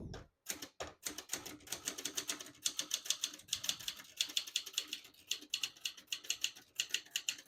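Rapid, uneven keystrokes from a 1966 Adler Tippa 1 portable typewriter typing a line of text, sharp close clacks in quick bursts with a brief pause near the start, alone with no voices.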